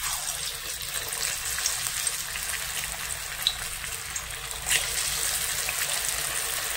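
Corn kebabs frying in very hot oil give a steady, bright hiss and sizzle close by, broken by a brief splash-like burst as another kebab drops in; no voices.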